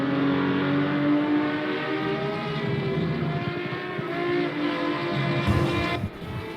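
Racing car engine in a racing video game, a loud, sustained, high-revving drone with steady harmonic whine that briefly drops off near the end as the revs fall.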